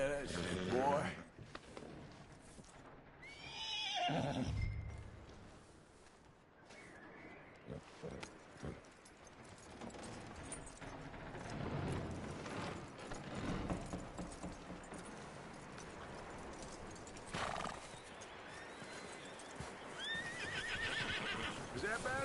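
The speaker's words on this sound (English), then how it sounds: "That looks like a decent horse." A horse in Red Dead Redemption 2 whinnies and neighs several times in loud bursts, with clip-clopping hooves and game ambience in between, and people talk over parts of it.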